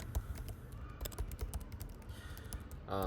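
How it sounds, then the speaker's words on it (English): Rapid typing on a computer keyboard during a coding session, a steady stream of close, crisp key clicks with irregular rhythm, ending as a voice begins to speak. "I don't know what's wrong with my typing today"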